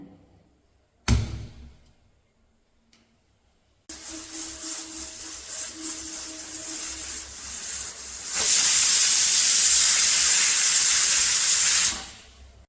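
A pressure cooker filled with rice, lentils and potatoes for khichuri on a gas flame: a sharp knock and quiet pause, a low rumbling boil, then a loud sustained hissing whistle of steam for about four seconds before cutting off.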